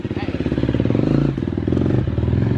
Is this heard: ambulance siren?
no